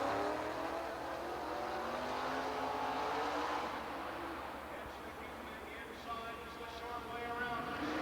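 Sprint cars race around a dirt speedway inside the Florida Suncoast Dome, engines roaring loud and continuous with a shifting pitch as they circle, under an announcer's commentary.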